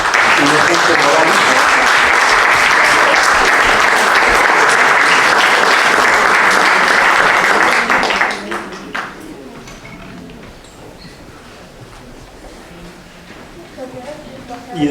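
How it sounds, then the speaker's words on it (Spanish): Audience applause at a commemoration held in a journalists' club, with dense, steady clapping for about eight seconds that then fades into quieter room sound and a few scattered claps. "le damos un aplauso a Inocente Morales"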